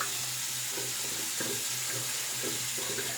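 Water runs steadily from a tap as a face is rinsed during a double-edge razor wet shave, a constant hiss with occasional splashes and soft knocks.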